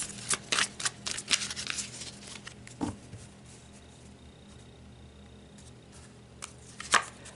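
Tarot cards are shuffled with crisp riffling flutters near the start, then a few soft snaps and taps as cards are pulled later, close and fairly quiet with no talk.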